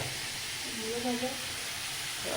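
A steady sizzling hiss of pumpkin frying in oil fills the clip, with a brief voice passing over it midway.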